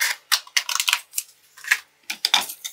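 Cardstock is trimmed by hand around a die for a butterfly card, giving a string of crisp, close snips and rustles in quick irregular bursts.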